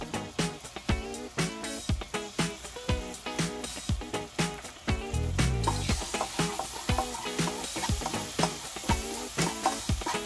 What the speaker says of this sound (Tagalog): haluin lang natin guys hanggang maluto siya